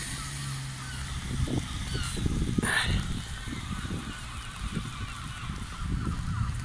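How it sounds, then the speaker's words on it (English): A goose honks loudly once amid faint background noise, with a few softer bird calls and distant voices, on a winter afternoon walk by water in South Shields, England. "Birds are singing a song."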